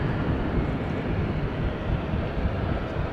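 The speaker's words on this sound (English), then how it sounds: "Qatar cargo 777 freighter taking off from runway 24 in the meantime." A Qatar Cargo Boeing 777 freighter taking off at Amsterdam Schiphol in rainy weather, heard as a continuous, dense low roar of jet engines at a steady level with no speech.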